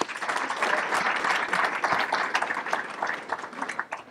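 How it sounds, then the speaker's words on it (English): A crowd at a high school event gives a round of applause for the school queen, dense sustained clapping throughout, loud and close with no talking over it. "congratulate our queen again, Miss Maddie, if we could give her another round of applause."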